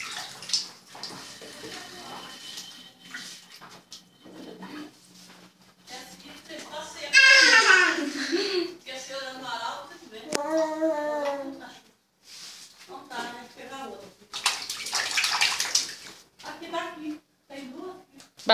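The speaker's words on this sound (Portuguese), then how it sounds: "Bate a mão na água." Hands splash water in a filling bathtub, with irregular slaps and sloshes interspersed with a voice and an adult talking nearby.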